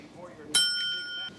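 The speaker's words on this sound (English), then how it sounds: "The bell." A single small bell is struck once, giving a bright ring that lingers briefly and fades.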